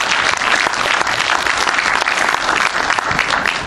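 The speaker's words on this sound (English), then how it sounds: "So please give her a round of applause." An audience claps for a performer of traditional Korean music, a steady, dense wash of many hands close and loud, holding evenly without a break.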